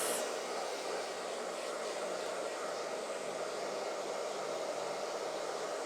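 A hair dryer fitted with a diffuser drying hair gives off a steady, close, breathy roar that holds an even level throughout, with no talking.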